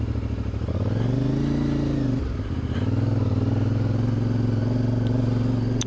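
A motorcycle rides along a rough, uneven country road, its engine droning steadily and close with a brief dip in revs midway before pulling strongly again, wind and rattling over the surface underneath.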